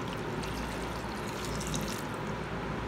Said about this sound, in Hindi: अब इसके अंदर मैं डालूंगी पानी